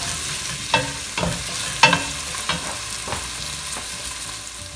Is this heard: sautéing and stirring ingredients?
yes